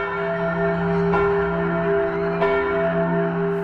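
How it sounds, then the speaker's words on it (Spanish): A church bell in Huesca tolling a death knell: a deep, sustained ringing tone with long humming overtones, struck again twice at roughly even intervals, loud and alone. "y ahora suena con toques de muerte"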